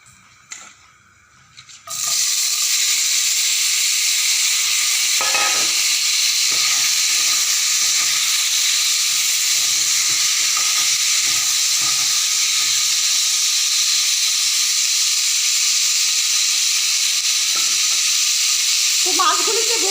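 Tangra fish coated in turmeric and salt are fried in hot oil in a wok, starting with a sudden loud sizzle after a short pause and then a steady, close, continuous hiss with faint clinks.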